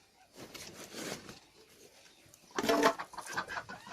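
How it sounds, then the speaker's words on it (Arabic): Farm ducks of the Sharshiri breed call out in short bursts near the microphone, with a louder, busier cluster of calls toward the end over quiet background noise. "ده بقى البط ايه البط بتاعنا، البط الشرشيري او الجعجيعي"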